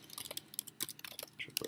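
Code typed on a computer keyboard while implementing a binary search tree, a quick, irregular run of close, crisp key clicks and taps with no talking over them.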